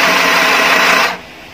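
A mini sewing machine runs steadily after its switch is pressed, giving a loud continuous whirring buzz at close range for about a second before it cuts off abruptly.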